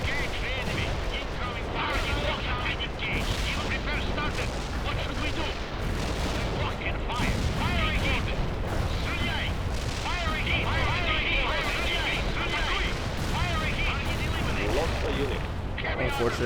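Dense, continuous gunfire and explosions roar through a World in Conflict battle, with rapid bursts and booms layered over one another while someone talks over the din.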